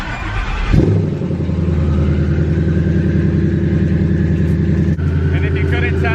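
A turbo-dumped 1000hp drag car engine cranks over and fires after a brief pause, then settles into a loud, steady, lumpy idle that carries on close by to the end.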